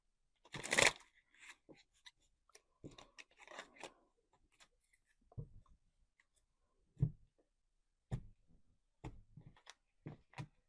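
Several crisp riffling and snapping bursts of tarot cards being shuffled, with a loud flurry at the start followed by scattered lighter taps and flicks.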